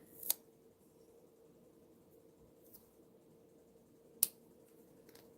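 Scissors trimming the ends of a craft loop, two or three quiet, crisp snips spaced apart against a faint steady hum in a quiet room.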